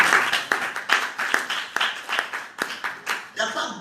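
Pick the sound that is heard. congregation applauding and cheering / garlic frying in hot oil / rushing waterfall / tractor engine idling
congregation applauding and cheering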